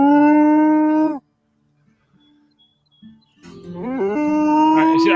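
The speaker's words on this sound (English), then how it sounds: "when cows are upset and mooing, it is one of the most obnoxious sounds in the world." Mooing cows: one long, loud low moo, a short pause with faint sounds, then a second strained moo that rises and wavers near its end.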